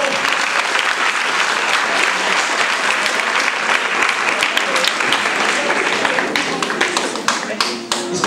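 Church congregation at an Easter service clapping for the children, a dense sustained round of applause filling the room, loud and steady, thinning slightly toward the end.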